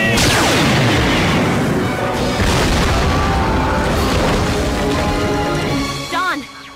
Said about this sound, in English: I'm picking up multiple explosions